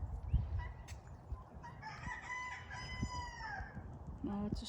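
A chicken on a farm gives drawn-out, wavering calls mid-clip over a low background of scuffling and rustling, with a short call near the end.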